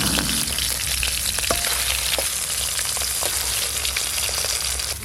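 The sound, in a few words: katla fish pieces frying in oil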